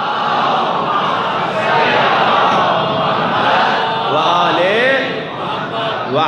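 A large congregation at a Shia majlis gathering loudly recites salawat in unison, forming a dense, roaring wall of many voices that stays strong and steady from start to finish.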